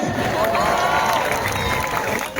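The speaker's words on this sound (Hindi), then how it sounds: "जोरदार तालियां फुलझड़िया के लिए।" Audience at a Reliance Family Day event erupts in loud cheering and applause, a continuous wall of crowd noise with shouts and whistles, close and full.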